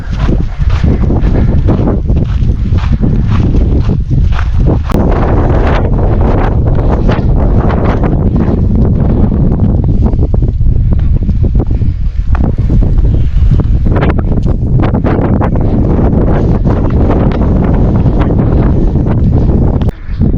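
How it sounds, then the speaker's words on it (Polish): Strong gusting wind in the Karkonosze mountains batters the microphone with loud, continuous broadband roaring and rumbling that never lets up, with no voices present throughout. "Jeżeli tutaj tak wieje, to na górze musi być huragan"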